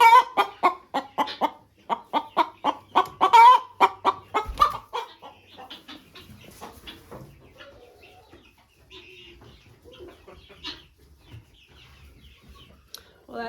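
Hens fighting over a nesting box cluck and squawk in rapid, agitated bursts close by, loudest at first, then settling into scattered softer clucks and rustling.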